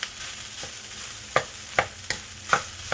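Pork fried rice sizzles steadily in a hot pan while a utensil scrapes through it in four or five distinct stirring strokes, up close with no voices.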